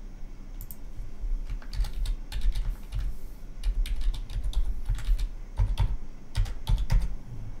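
Rapid, uneven keystrokes on a computer keyboard as a username and password are entered, close and clear with short pauses between bursts, and no talking.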